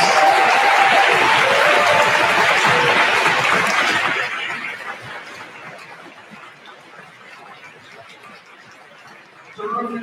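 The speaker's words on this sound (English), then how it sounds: "If you're here from Morganton, stand up and receive a round of applause." An audience gives warm applause for a wind ensemble, a dense clapping wash that tapers off after a few seconds into murmuring chatter.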